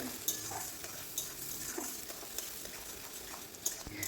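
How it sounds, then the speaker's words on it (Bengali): Onions sizzle steadily in a hot pan, a constant crackling hiss with occasional soft scrapes of a spoon. "এখন পেঁয়াজগুলোকে লাল করে ভেজে নিতে হবে"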